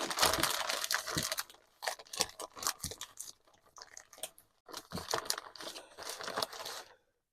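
A plastic bag crinkles and rustles up close in loud, uneven bursts while covering seeded early cabbage, pausing briefly midway before another round of crackling handling.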